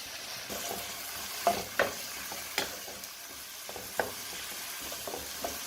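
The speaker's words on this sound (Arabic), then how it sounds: "نخليها شي يتشحر مزيان باش نزيد الخضره الاخرى" Mixed vegetables sautéing in a frying pan while a home cook prepares fried vegetables, a soft steady sizzle broken by several sharp stirring clicks and scrapes of the utensil against the pan, no talk.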